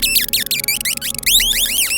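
Enemy rats in the video game The Gate give loud, close, high squeaks and chirps in rapid, irregular bursts, repeated many times over a couple of seconds above a low electronic hum.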